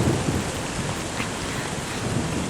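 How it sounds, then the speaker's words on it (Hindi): Heavy rain pours in a dense, steady hiss, with a low thunder rumble rolling beneath it, close and continuous with no voices. "पता नहीं इतनी बारिश क्यों हो रही है"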